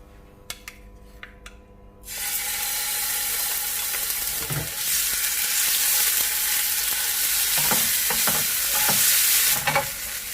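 After a few light taps, a loud, steady sizzle of ginger garlic paste frying in hot olive oil takes over, with occasional scraping stirs against the pan.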